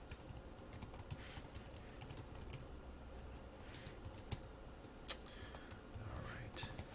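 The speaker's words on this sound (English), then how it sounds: "I can speed along my typing" Typing on a computer keyboard while writing JavaScript: quiet, rapid, irregular key clicks and taps, close up, with faint background hum.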